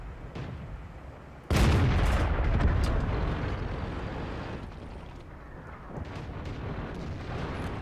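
A tank cannon fires in World of Tanks, a single heavy blast landing suddenly and rolling off into a long rumbling decay over continuous engine-like noise, with no voices.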